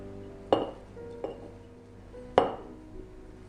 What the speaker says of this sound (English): I've got a sterilized half pint jar here, and I'm going to half fill it with some dried flowers